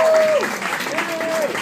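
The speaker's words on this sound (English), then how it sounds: "Another round of applause for Live Nation New York President Jason Miller." Festival announcement audience applauds Live Nation New York's president: a short, dense burst of clapping under brief tonal whistles or cheers, steady for under two seconds.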